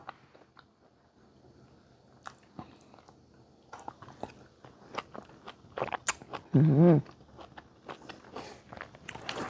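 Someone bites and chews Taiwanese oranges at close range, with scattered soft, wet crunches and a brief louder burst midway, over a quiet background.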